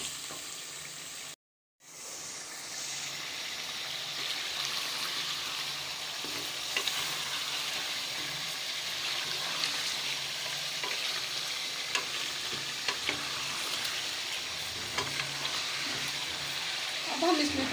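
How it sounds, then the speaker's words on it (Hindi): Chicken sizzles and fries in a pot while being stirred for chicken nihari, a steady crackling hiss with scraping stirs, briefly cut off near the start, and a voice talking over it. "चिकन को हम अच्छी तरह से भून लेंगे"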